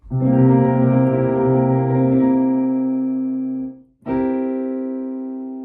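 Two sustained, ringing dominant seventh chords on a tonal instrument. The first holds for nearly four seconds, then a second is struck and rings out.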